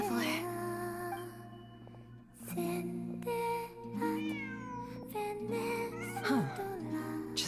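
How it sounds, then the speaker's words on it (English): Cat meowing in the Genshin Impact video game, several drawn-out meows over steady game music, with one rising, sliding call near the end. "Just a cat."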